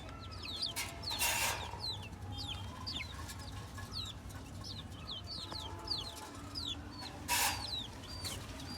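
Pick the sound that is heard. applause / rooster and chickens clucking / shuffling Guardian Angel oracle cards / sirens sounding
rooster and chickens clucking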